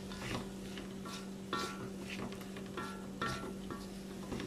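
Onions and long beans being stir-fried in a wok, with a steady low sizzle and a constant hum underneath, and light metallic scrapes and clinks of a spatula against the pan at intervals.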